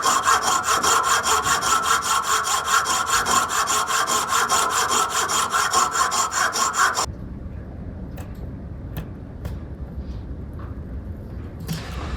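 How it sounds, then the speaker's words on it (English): A belt sander grinds steadily against a metal xylophone tube being tuned, a loud continuous rasp for about seven seconds that then cuts out, leaving quiet rustling and a few faint clicks. "To tune the tubes, we used a tone generator and a belt sander"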